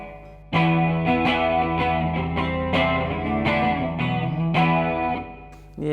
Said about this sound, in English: Yeah, it's still a bit of distortion.